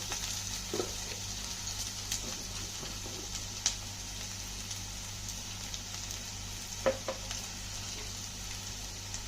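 Chicken frying in a pan, a steady close sizzle with faint crackles and a couple of brief clinks from a utensil, no talk.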